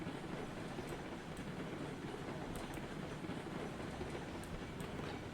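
A train hauls loaded cars along a new iron route in RailRoads Online, a steady low rumble with faint rhythmic clicking of wheels, continuous and fairly quiet.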